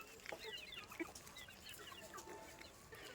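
Chickens cluck close by in a garden as they crowd around to be fed, with a busy overlapping stream of short calls and no talking.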